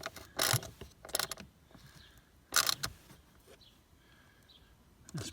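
Bolts are done up on the refitted engine shroud of a Citroën C3 Picasso, with a few short bursts of ratcheting clicks, close and moderately loud, separated by quiet pauses.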